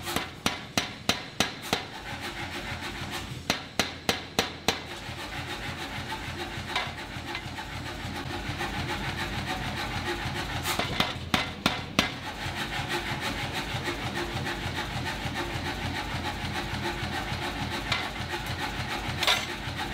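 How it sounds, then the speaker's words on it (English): A power hammer forges heated Inconel in rapid bursts of sharp metallic blows, clustered at the start, again near the middle and once near the end, over a steady background roar with no voices. "I'll heat this up one more time and I'll give it a full meal deal on the power hammer"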